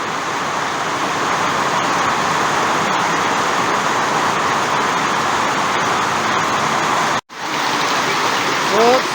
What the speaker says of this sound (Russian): Как хорошо идет дождь.